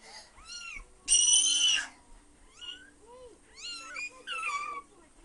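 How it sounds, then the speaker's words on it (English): A kitten meows repeatedly in short rising-falling cries, close by, with one louder, longer squeal near the middle and soft background sounds between calls. "It's just a kitten. Come pet it."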